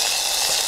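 Vermicelli simmering in boiling milk, heard as a brief, close wash of bubbling and hissing with a faint stirring swish underneath.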